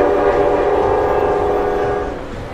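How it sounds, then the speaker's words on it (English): A loud train sound effect plays as a show's train departs, with a continuous rumble and a sustained horn-like tone throughout, easing off slightly near the end. "Time to get the train underway, dudes"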